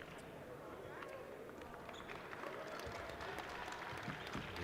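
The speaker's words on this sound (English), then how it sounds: "Gets an ovation from the crowd" Crowd applause and cheering fill a high school basketball gym during a Chicopee game as a player gets an ovation, steady and broad with a slight swell toward the end, with an announcer talking over it.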